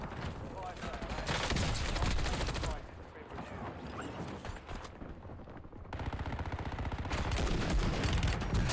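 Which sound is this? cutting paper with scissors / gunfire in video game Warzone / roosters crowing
gunfire in video game Warzone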